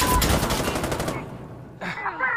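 Rapid automatic AKM rifle fire in the tactical shooter Insurgency: Sandstorm, a dense loud burst for just over a second that cuts off, followed by a short sharp noise and brief voice sounds.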